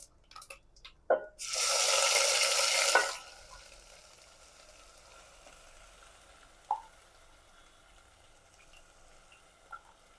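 Masala paste for chole dropped into a hot pan gives a loud burst of sizzling for about a second and a half, then fades to a quiet hiss with a few faint clinks of utensils.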